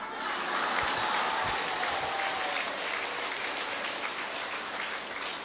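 A Buddhist audience claps together at a dharma talk, producing thick, continuous rain-like applause from many hands that holds steady throughout, with faint voices mixed beneath.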